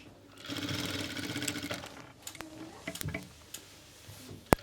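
A sewing machine runs an edge seam on pheran fabric to prepare a fold: a steady, rapid whirr of stitching for about two seconds, then scattered short bursts and clicks as the work is adjusted, with no talking.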